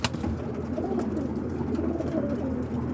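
A coop of roller pigeons in Massachusetts keeps up a steady, overlapping cooing, several birds near at hand, with no talking.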